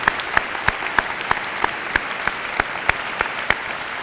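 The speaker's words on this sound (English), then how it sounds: "Please join me in a round of applause for our military members in our schools." An audience at a school Veterans Day celebration applauds for military members: a steady crowd clapping bed with one nearby clapper striking sharp, evenly spaced claps roughly three times a second throughout.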